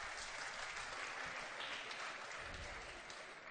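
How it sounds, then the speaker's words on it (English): A crowd in a high school gym applauds at a girls' varsity basketball game as an injured player is helped up, a steady even roar of clapping that holds at moderate distance throughout. "Nice round of applause here"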